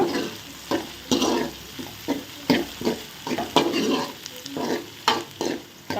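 Onions sauté in plenty of oil for tomato thokku, the steady sizzle broken by repeated close stirring scrapes in an uneven rhythm.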